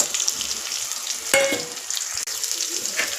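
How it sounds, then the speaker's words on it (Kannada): Onions frying in a pan give a loud, close, continuous sizzle with stirring scrapes mixed in, alone without talk. "ಈರುಳ್ಳಿ ಫ್ರೈ ಆಗಿದೆ"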